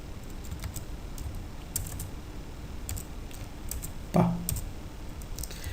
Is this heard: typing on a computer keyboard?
yes